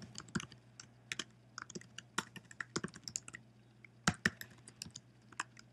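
Rapid, uneven clicks of a computer keyboard as a password is typed into a software installer, with bursts of keystrokes and short pauses over a steady low hum, close up and with no talking.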